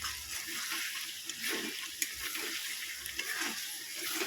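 Chicken pieces sautéing and frying in a pan for a pressure-cooker chicken curry, giving a steady close sizzle with occasional stirring scrapes and clinks.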